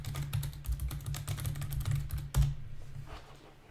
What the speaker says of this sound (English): I will type my email.